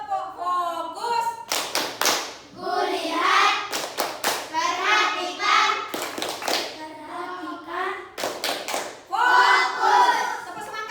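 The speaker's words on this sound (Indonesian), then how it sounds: "1, 2, 3, tepuk fokus." Classroom children performing a rhythmic clapping chant, bursts of sharp hand claps in patterned groups alternating with sung and spoken lines from a teacher and the kids, close and lively.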